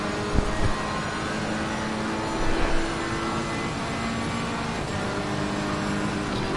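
A GT race car engine in Assetto Corsa Competizione during a 3-hour endurance race at Monza, a steady loud droning roar throughout with a couple of brief louder bumps near the start.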